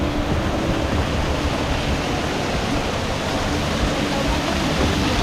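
A steady, full roar of rushing water from a waterfall near the Kusatsu hot springs in Japan, heard close and loud with an unbroken hiss and no pauses.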